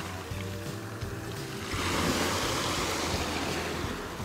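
Sea waves slap and rush against a small fishing boat out mackerel fishing, with steady wind buffeting the microphone and a low engine-like hum, swelling louder midway.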